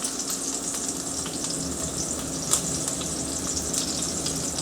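Chicken nuggets searing in a pan give off a steady, loud, close sizzle and crackle of frying oil, continuous throughout with a few brief pops, and no talking.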